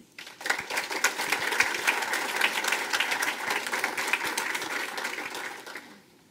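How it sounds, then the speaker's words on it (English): A crowd bursts into applause at a small-town barbecue festival coronation ceremony, clapping rising quickly, holding loud and full for several seconds, then tapering off at the end. "Please welcome up with a big round of applause 2019 First Princess, Madison McGrain."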